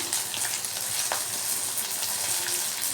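Garlic and onion frying in a pan for peanut chutney make a steady, close sizzle with light crackles and occasional spits, even and continuous with no voices.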